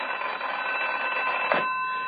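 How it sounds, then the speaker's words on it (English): A telephone rings as a radio drama sound effect, a shrill continuous electric bell trill with a steady pitch, heard alone and fairly close. "Until the telephone rang."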